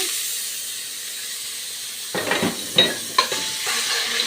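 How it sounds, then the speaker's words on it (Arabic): Garlic dropped into two spoonfuls of country ghee in a pan, a hushed quiet lead-in then a sudden sizzle with sputtering pops and scraping stirs. "احور الثوم"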